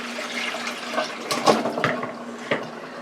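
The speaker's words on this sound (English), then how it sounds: "I'm going to pour the water off." Water is poured off about six medium cut-up white potatoes into a sink, giving a close, gurgling splash with a few brief louder gushes and sloshes over a steady trickle, and no one speaking.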